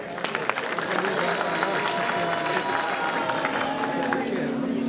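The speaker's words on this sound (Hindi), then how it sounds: "उनके लिए एक बार जोरदार तालियां बजाएं" Audience at a Veterans India Foundation Day and Vijay Diwas celebration applauds, a continuous wash of clapping mixed with crowd murmur and some voices at moderate level.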